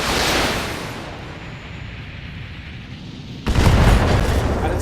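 Mech autocannon and missile fire in a BattleTech game: a rushing, explosive roar that eases back, then a sudden loud burst of booming impact near the end, with no talking.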